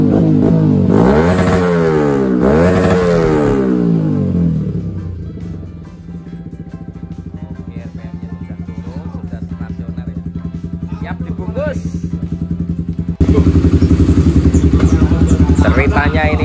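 A Yamaha WR 155 supermoto engine and exhaust running close by: loud revs rising and falling at first, then a steady idle chatter, before the revs pick up sharply again near the end, with voices talking under the engine.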